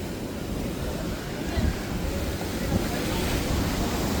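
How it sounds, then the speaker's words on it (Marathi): Big rough sea waves on the Konkan coast, a continuous loud roar of surf mixed with wind buffeting the microphone. "पाणी नुसता खवळला आणि मोठ्या मोठ्या लाटा येत आहेत पूर्ण, खूपच मोठे मोठे."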